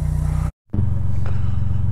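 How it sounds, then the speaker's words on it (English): A Honda Goldwing motorcycle, a 1500 or 1200, idles while warming up on a cold day, its low, steady rhythmic engine throb loud and near, with a brief cut to silence before the idle resumes. "the bike's starting to warm up, idling just fine"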